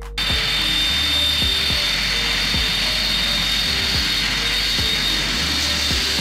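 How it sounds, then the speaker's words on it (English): Boeing KC-135R Stratotanker military refueling aircraft roaring loudly and continuously, a broad steady jet rumble with a high whine, punctuated by faint periodic clicks. "Boeing KC-135R. An upgraded version of the KC-135 Stratotanker."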